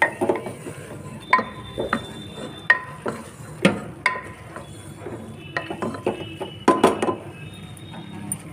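Chopped tomatoes and spinach sautéing in a pan for palak dal, with a spatula scraping and clinking against the pan in irregular bursts over a soft background sizzle.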